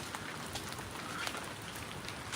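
Steady rain falls during Tropical Storm Calvin in Hilo, Hawaii, a continuous even hiss of drops with no voices and no pauses.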